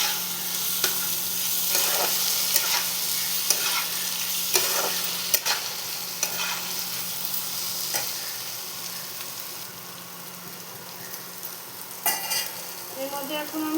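Fried taro pieces and tomato sizzling steadily in a pan while being stirred, with a constant hiss and repeated scraping and knocking of the spoon, close and fairly loud throughout.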